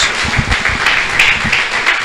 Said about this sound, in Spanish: Le damos un fuerte aplauso a Dios.